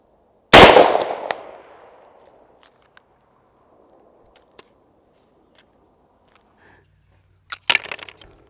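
A single loud, sharp report from a .44 Magnum shotshell fired outdoors, with a decaying echo trailing for about a second, faint clicks in the quiet that follows, then another sharp bang near the end.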